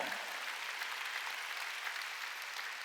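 Church congregation applauding during a Korean Wednesday worship service, a steady, dense clapping that fills the space at moderate volume and continues evenly throughout, with no voices over it.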